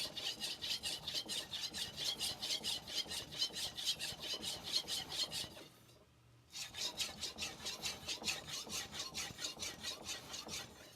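A Yoshida Hamono 240mm Aogami 2 knife blade is polished on a Morihei Hishiboshi Hi 4000 whetstone, giving steady rhythmic rasping strokes up close, with a brief pause in the middle before the strokes resume.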